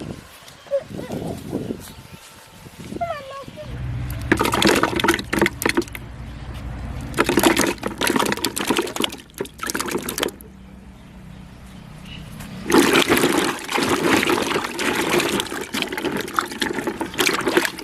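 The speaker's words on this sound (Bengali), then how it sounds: "এই যে কুলগুলোকে খুব ভালোভাবে ধুয়ে নিয়েছি" Jujube fruits being washed by hand in water for a spiced kul makha, with sloshing, trickling and splashing bursts that come and go in uneven spells, close and fairly loud.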